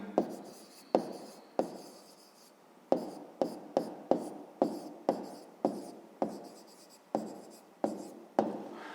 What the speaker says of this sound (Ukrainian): Ну, а тепер записуємо відповідь.